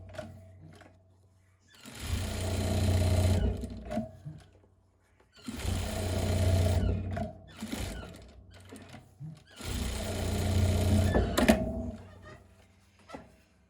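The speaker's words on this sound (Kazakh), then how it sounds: "Енді келесі біз 4 жағынан тігіс жүргізіп, қыздар айналдырып тігіп шығатын боламыз." A sewing machine stitches around the edges of a patchwork quilt, running in three long loud bursts separated by short pauses with small handling clicks, close and alone without talk.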